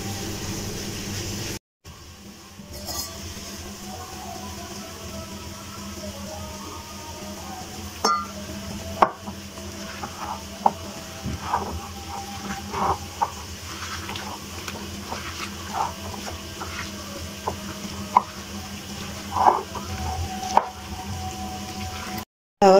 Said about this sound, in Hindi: अब मैं हाथ की मदद से करूंगी मिक्स।